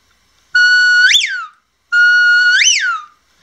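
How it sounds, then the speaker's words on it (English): Two loud, clean whistle commands for a herding dog, each a steady tone held about a second that swoops upward then falls away, separated by a short silence. "here is the voice whistles for Nina."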